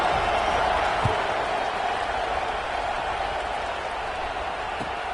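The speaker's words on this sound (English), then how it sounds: "this crowd is buzzing after that last score" A stadium crowd in a Madden football video game gives a steady, dense buzzing roar after a score, continuous and fairly loud, with a faint play-by-play voice under it.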